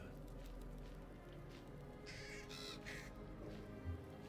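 A raven caws in Baldur's Gate 3, giving a few harsh, rasping calls in quick succession midway through, faint over a low, steady game ambience.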